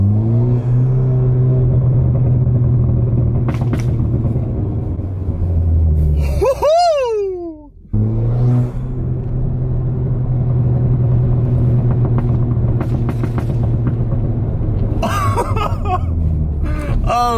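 A Ford Fiesta ST runs with a loud, droning exhaust. Sharp crackling pops break through as the revs drop partway through and again near the end, between steadier stretches of engine rumble.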